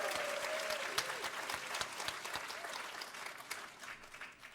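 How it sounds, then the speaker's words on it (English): An audience applauds after a concert by a 13-year-old performer in Manila, a few seconds of brisk, fairly distant clapping that tapers off toward the end. "one more round of applause for Mr."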